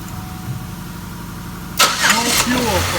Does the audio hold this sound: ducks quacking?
no